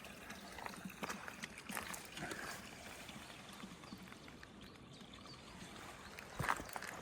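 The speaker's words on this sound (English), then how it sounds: "all the trickles of water coming forth" Faint trickles of water run steadily through a quiet outdoor scene in the Dolomites, a low continuous patter with a few brief sharper splashes near the end.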